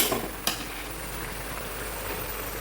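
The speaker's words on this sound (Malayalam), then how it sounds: "കടുകിട്ട് പൊട്ടിച്ചു അതോടൊപ്പം ചുവന്ന മുളക് ചെറിയ ഉള്ളിയും കറിവേപ്പിലയും കൂടെ ചേർത്തിട്ട്" Mustard seeds splutter in hot oil with red chillies, small onions and curry leaves for tempering a curry, a dense close crackling sizzle with one sharp pop near the start.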